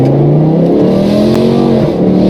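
BMW M3 E46 with a V10 engine swap and DCT gearbox accelerating hard on the autobahn, a loud, steady engine note climbing in pitch through the rev range, with an upshift near the end.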